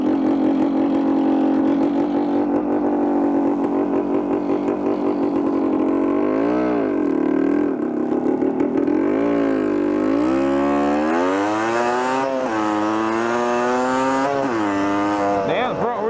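Motorbike engine revving loudly and continuously, its pitch climbing and falling in repeated sweeps as the rider pushes through a ditch, while a voice talks over it.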